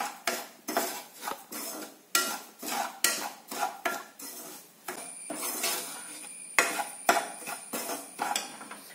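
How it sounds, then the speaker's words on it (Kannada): A spoon stirs semolina roasting in ghee in a pan, making a close run of quick metallic scrapes and clinks in an uneven rhythm of roughly two strokes per second, with no talking. "ಈ ರವೆಯನ್ನ ಚೆನ್ನಾಗಿ ಹುರ್ಕೋಬೇಕು"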